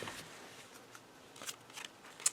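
Paper ephemera being handled, a small manila-style folder flipped and shuffled, giving soft scattered rustles and a few brief crisp paper snaps close by, quiet overall with no talking.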